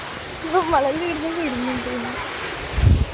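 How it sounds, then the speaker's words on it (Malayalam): A waterfall in Kannur gives a steady, soft rushing noise in the background while a person speaks over it briefly, followed by a louder rustle at the end. "ഇങ്ങനെയാണ് നമ്മള് വെള്ളച്ചാട്ടത്തിന്റെ അടുത്ത് പോവാ"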